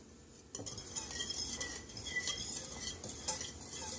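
A whisk scrapes and clinks against a bowl while stirring yeast into a liquid for cinnamon roll dough, quick irregular metallic taps and swishes close by, starting after a short quiet moment.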